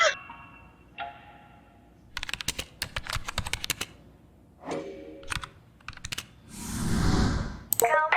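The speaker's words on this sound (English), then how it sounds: "She types fast." Rapid clicking of a computer keyboard in a music video comes in quick bursts, mixed with synth tones, a whooshing swell and other electronic effects.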